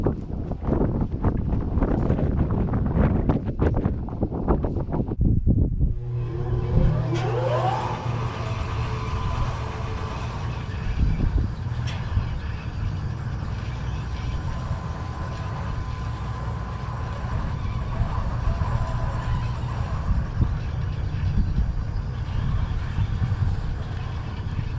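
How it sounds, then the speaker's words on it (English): A pump jack on an oil well runs steadily in a wind-buffeted outdoor setting, a low continuous mechanical drone with a faint rising whine, heard after a burst of rough handling noise at the start. "let's get the pump jack going"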